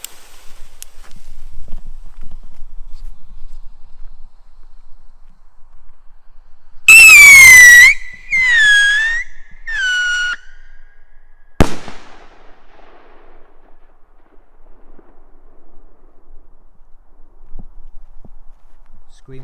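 A Scream Rocket three-stage firework launches with a loud piercing shriek, followed by two shorter screaming bursts and then a sharp bang, standing out against quiet outdoor background.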